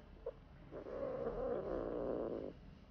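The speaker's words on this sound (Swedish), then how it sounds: "En katt." A cat makes a low, rough, steady purr-like rumble lasting a couple of seconds after a brief faint sound, quiet and close.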